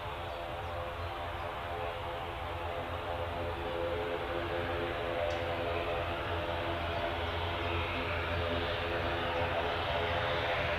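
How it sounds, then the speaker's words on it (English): A propeller airliner departing Manchester airport, a steady droning engine roar with tonal hum that holds loud and continuous throughout, with faint voices briefly underneath. "Next departure is going to be a prop."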